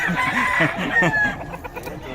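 Chickens and roosters cluck and crow at a poultry market in Bocaue, several birds calling close by in overlapping bursts with a long crow rising among the clucks.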